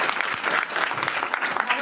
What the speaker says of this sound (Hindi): वाह, वेरी गुड। ताली बजाओ।